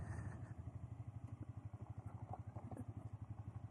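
Sport bike motorcycle in second gear on loose gravel along a forest road, its engine a steady low rhythmic thrum with faint crunchy clatter from the surface, quiet and continuous.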